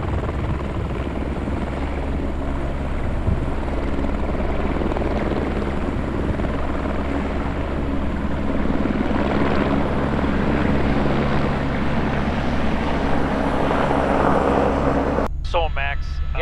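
A police helicopter, Copper 49 Alpha, departs from the ramp, its steady rotor and engine drone loud and continuous throughout, with a brief sharp radio-like burst near the end.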